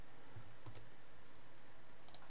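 Soft, sparse keystrokes on a computer keyboard, a few quiet clicks over a steady low hum, with no talking.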